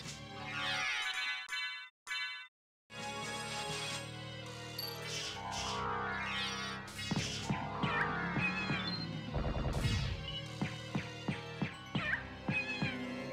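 Cat enemies meowing repeatedly in Castlevania: Symphony of the Night, layered with game music, hits and sound effects in a busy, continuous mix with a few short gaps.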